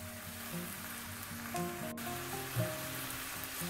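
Pork loin frying in a pan on a bed of coarsely cut green onion, with ginger and garlic, gives a steady, fairly quiet sizzle with a faint background hum and no talk.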